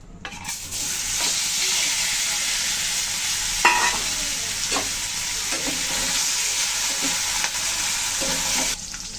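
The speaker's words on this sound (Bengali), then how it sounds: "তেল গরম হয়ে গেছে, আমি মাছগুলো তেলের ভিতরে একটু হলুদ দিয়ে নিলাম, দিয়ে দিচ্ছি মাছগুলো" Fish frying in hot oil with turmeric for a thin fish curry, a steady loud sizzle throughout with occasional pops and crackles as pieces settle in the pan.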